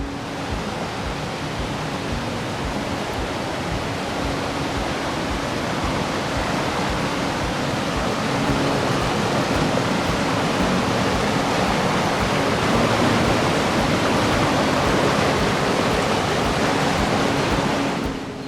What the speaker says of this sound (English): we've got some sort of a waterfall, something like that, cascading